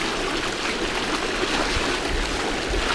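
Creek water rushes steadily and close by near Teocalli Ridge outside Crested Butte, Colorado, a dense continuous wash of flow with no voices over it.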